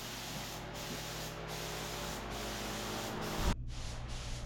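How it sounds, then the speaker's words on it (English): A spray gun shoots flat black paint onto sheet metal wheel tubs for a Chevy Nova build, a continuous close hiss with short breaks between passes. "shooting black paint over it"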